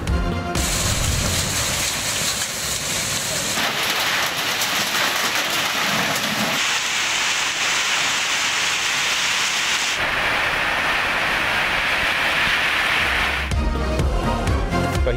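Steady rain falls loud and close for the whole stretch, a dense hiss whose tone shifts in several abrupt segments, with no voices.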